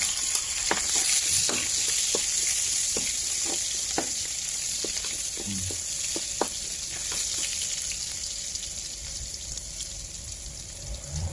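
Onion and garlic sauté in a hot pan with a loud, continuous sizzle, close by, while a utensil taps and scrapes through the mix at irregular intervals.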